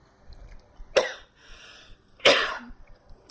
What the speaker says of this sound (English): I was coughing on the bullshit